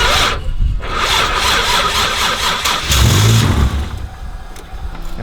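A Rocket Bunny FR-S drift car engine cranks and catches, then revs up through a loud close rise and settles back toward idle, with no voices over it.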